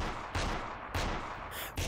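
Gunfire in VRChat: three or four sharp, loud shots spaced unevenly over a couple of seconds, close and without talk.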